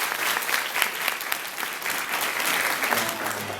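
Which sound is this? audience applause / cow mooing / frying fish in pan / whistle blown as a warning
audience applause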